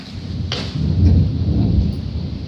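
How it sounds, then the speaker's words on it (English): A deep rumble of thunder rolls in after a sharp crack during a lightning storm, swelling and lingering over a steady background hiss. "Yep, it's thundering and lightning pretty good"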